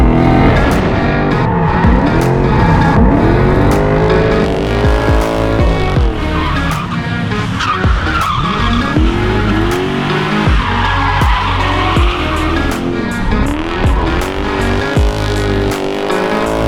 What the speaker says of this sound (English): we are going to Shawano and we are drifting the drift truck